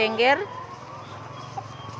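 A 14-week-old laying hen gives a short clucking call at the start, followed by a quiet, steady background hum with faint barnyard noise.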